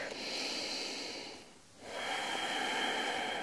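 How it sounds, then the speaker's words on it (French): Slow, steady breathing during a gentle yoga flow, a long soft exhale-like rush that fades to near silence midway and then resumes as another drawn-out breath, close and quiet. "Encore une longue respiration."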